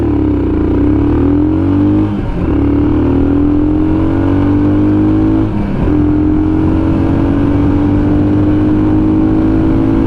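A Himalayan motorcycle fitted with a Red Rooster performance exhaust revs hard and close, its engine note climbing in long sweeps with two brief dips between throttle pulls, loud and with no talk.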